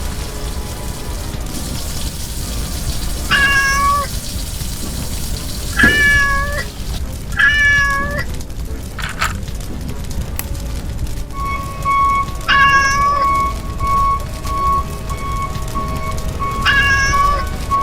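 A kitten meows repeatedly, high and plaintive, in several separate bursts over steady rain-like hiss and noise, fairly close and loud.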